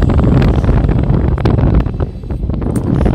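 Steady, heavy wind buffets the microphone throughout on a Panglao, Bohol land tour, a constant low roar with gusty rumbling and no voices.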